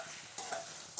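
Salted paneer pieces fry in a pan with a faint, brief sizzle, broken by two or three soft stirring clicks.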